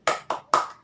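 Three sharp, distinct claps from a classroom group doing the 'tepuk semangat' clap chant, in a quick rhythm with the last one slightly louder, heard on their own with no talk.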